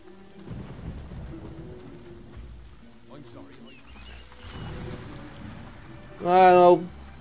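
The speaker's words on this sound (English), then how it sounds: "Well, I never really liked Thunder anyway" Rain hisses and thunder rumbles in Fable Anniversary, with a low roll building in the background while someone talks, then a sharp, bright burst near the end.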